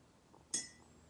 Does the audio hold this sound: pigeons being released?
no